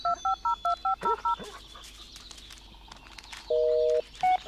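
Phone beeps in the Blair Witch video game: a quick series of rhythmic dialing tones, then a quieter stretch, a longer steady tone and one more short beep, loud and close with no speech over them.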